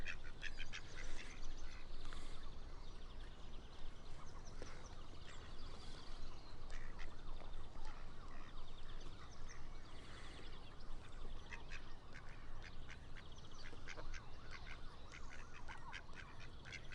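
Geese and ducks call repeatedly near a bird feeder, a busy overlapping chorus of honks and quacks running throughout at moderate distance.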